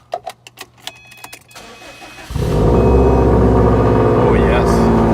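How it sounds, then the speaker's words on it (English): A 2008 Subaru STI is started after a few clicks and small handling sounds, then its engine catches and settles into a loud, steady idle rumble heard up close. "Let's start this car."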